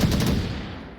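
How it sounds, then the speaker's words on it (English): Loud automatic gunfire from the VR shooter Onward, heard in a competitive league match: a rapid burst of close shots that rings out and decays over about a second. "I think it was the gunshots onto Blizzard that obviously gave away his position"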